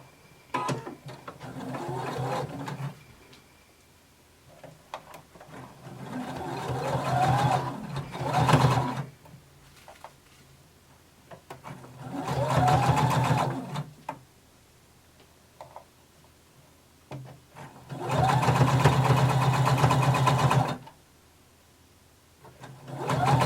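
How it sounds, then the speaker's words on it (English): A sewing machine sews close to the edge of folded fabric in several separate runs, each a few seconds of steady rapid stitching with short quiet pauses and faint handling sounds between them. "we're going to sew close to the edge. Go slow, especially if your fabric is a little thick"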